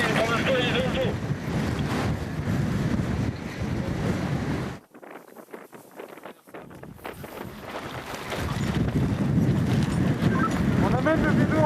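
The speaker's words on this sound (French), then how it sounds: "on a du vent, on a une fenêtre, mais c'est difficile, c'est très venté" Strong gusts buffet the microphone at an outdoor track, a loud continuous roar that drops away briefly in the middle before returning at full force.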